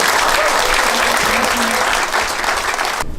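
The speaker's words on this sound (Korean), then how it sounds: "뜨거운 박수로 맞이해주시기 바니다" Dense, loud applause from an audience at a Korean political campaign event, welcoming a candidate's spouse to the stage, steady throughout with crowd noise and a few faint voices mixed in.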